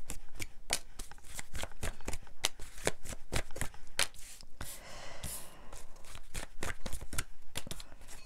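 A deck of oracle cards is shuffled by hand in rapid riffling bursts, close and crisp with a rhythmic flutter of card edges and a brief pause of softer handling in the middle, and no talking.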